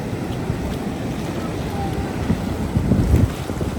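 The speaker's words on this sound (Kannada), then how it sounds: "ಸಮುದ್ರದ ಬೋರ್ಗರತ್ತೆ ನೋಡಿ ಮಳೆಗಾಲ" Rainy-season sea waves roar near Murudeshwar beach in a constant loud wash, with wind buffeting the microphone and the surge swelling toward the end.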